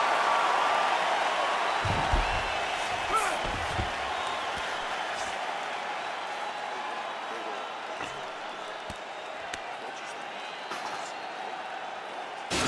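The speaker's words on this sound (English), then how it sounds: "So the crowd voicing its appreciation after that round." A virtual arena crowd in the UFC 4 mixed martial arts video game cheers and applauds after a round, a steady broad wash of noise at moderate level with a few sharper claps and thumps early on.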